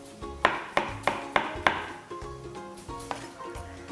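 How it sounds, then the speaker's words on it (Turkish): A knife chops sharply on a board in a quick run of five evenly spaced strikes, then several softer, scattered cuts, dicing potatoes into small cubes. "tavla zarı diye isimlendirdiğimiz küp küp, küçük küpler halindeki doğramayı yapıyoruz"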